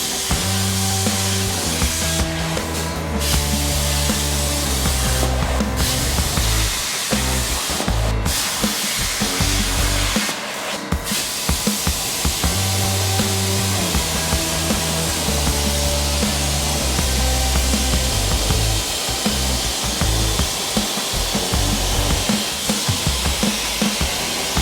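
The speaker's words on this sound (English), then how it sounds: "So it's time to cut." A metal winch mount for a Yamaha G11 golf cart is cut, a loud continuous harsh grinding roar running throughout with a few sharp bursts, close and unbroken.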